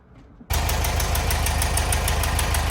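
A 1974 Volkswagen Westfalia's air-cooled engine, freshly revived after twenty years parked, kicks in loudly and settles into a steady, even idle with a rapid rhythmic chug and a buzzing mechanical clatter close by.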